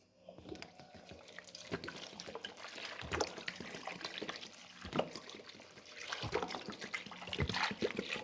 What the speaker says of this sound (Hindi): अब मैं इसमें पानी डालती हूँ।